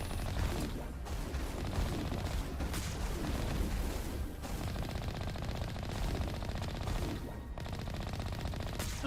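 Geth turrets fire in the video game Mass Effect Legendary Edition, a steady barrage of rapid gunfire and blasts that runs loud and continuous, with brief dips between volleys.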